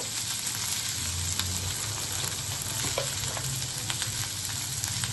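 Vakkaya (karonda) berries frying in a pan with a constant, even sizzle and light crackles, broken by a few small pops and stirring sounds, with no voices.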